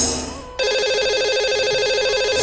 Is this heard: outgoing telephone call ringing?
yes